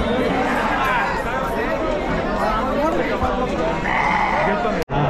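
Busy goat and sheep market crowd noise in Chakan, Maharashtra, with sheep bleating repeatedly in the mix, voices chattering throughout, and a brief sharp drop near the end.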